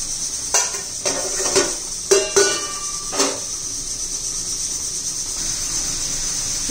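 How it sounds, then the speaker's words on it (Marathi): A lid lifted off a cooking pot on the stove: several light metallic clinks and taps in quick succession, close by, over a soft steady sizzle and hiss from the pot. "झाकण काढून पाहूया."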